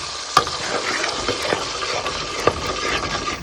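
Tamarind extract is stirred into hot oil in a pan. A steady close sizzle runs throughout, and two sharp spoon knocks stand out against the metal, with no talking.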